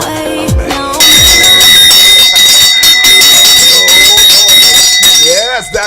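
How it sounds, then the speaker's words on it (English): A bell rings loud and close, a continuous bright metallic clanging with steady ringing overtones that fills most of the few seconds before cutting off. "So I'm gonna just ring the bell right now"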